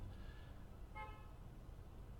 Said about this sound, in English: So he had a car honk